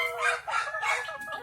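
Desi pandem fighting-breed rooster crowing at a Telangana breeding setup, a clear close crow in a few rising and falling bursts over a low steady hum.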